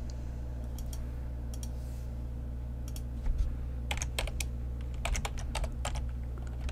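Fingers tapping a computer keyboard while entering code in an Excel VBA editor, scattered clusters of crisp clicks over a steady low electrical hum, no talking.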